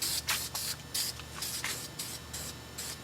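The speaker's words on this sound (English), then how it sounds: "We're gonna give it one little shot of spray paint right over those screws." Several short hissing bursts of an aerosol spray paint can over screws on a Masterbuilt 560/1050 grill firebox, close and fairly quiet, in an uneven rhythm with brief gaps between sprays.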